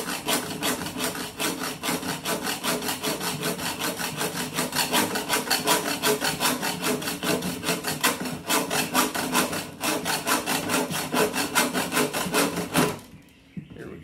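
A hacksaw cuts through coated wire shelving resting on cloth on a workbench, giving a steady rhythmic rasp of rapid back-and-forth strokes, close and continuous, ending abruptly.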